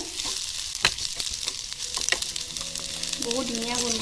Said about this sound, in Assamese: ধুনীয়াকৈ ভাজি লওঁ